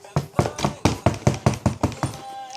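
A person knocks on a door in imitation of a police knock: about ten firm, evenly spaced raps in a quick steady run, close and fairly loud, with no voices over them.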